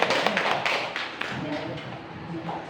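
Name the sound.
audience applause for the first commission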